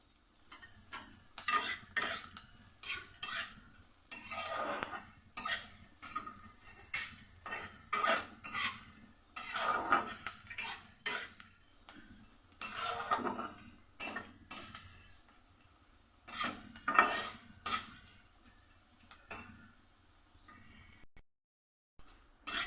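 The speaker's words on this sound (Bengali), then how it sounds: "ডালটাকে ভালো করে ভেজে নেব।" Dal fries in a pan as a spoon stirs and scrapes against the metal in repeated bursts, with a low sizzle underneath; quiet, close kitchen sounds with brief pauses between strokes.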